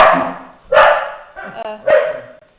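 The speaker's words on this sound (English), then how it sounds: "just sorting the dogs out" Several dogs bark in short bursts at a home, loud and close, with a pause between each burst, while people talk over them.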